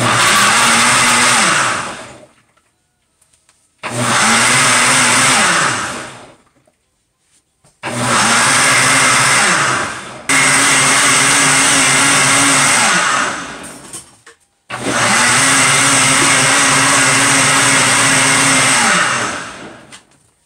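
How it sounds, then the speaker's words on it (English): A countertop blender whirs loudly as it blends beetroot, garlic and celery into juice, running in four long bursts separated by short silent pauses. "Now I'm gonna blend."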